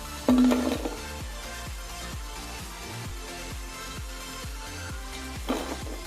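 Cauliflower chops being lifted out of hot oil after frying, with a steady run of regular clinking strikes, like a metal utensil tapping a pan or strainer, and a couple of louder clatters near the start and end.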